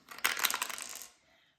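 Ten-sided dice rolled onto a hard surface, a quick burst of clattering rattles that settles within about a second.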